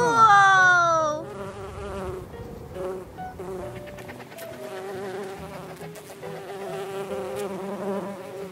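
Honey bees buzz steadily around the hive, with a loud, close, high whine from the first second, then a continuous hum made of many insects. Faint sounds of people are mixed in.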